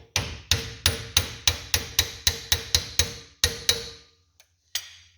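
Metal hammer-like taps of an adjustable spanner knocking a 22mm part onto a front axle assembly, about a dozen sharp, evenly spaced close knocks, then a pause and two lighter taps, with no talk.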